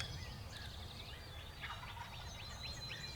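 A wild turkey gobbles in rapid rattling bursts, faint and distant, over a low steady outdoor background hum.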